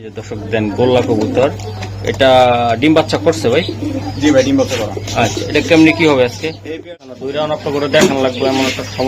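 Pigeons, including racers, coo at a busy pigeon market, a soft low cooing running beneath steady close talk and a faint electrical hum.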